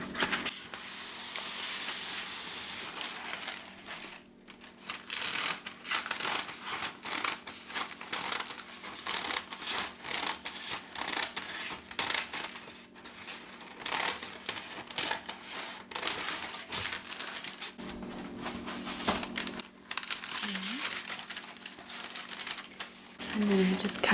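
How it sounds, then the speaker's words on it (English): Scissors snip and crinkle through parchment paper close up, a steady run of crisp rustling cuts and paper handling in a kitchen while banana bread is being made. "I'm gonna cut some parchment paper to make like a little hammock for the bread"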